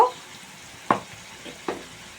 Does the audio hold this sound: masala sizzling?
yes